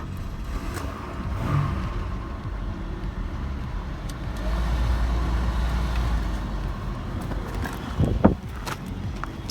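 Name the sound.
Chevrolet Malibu engine running on cold start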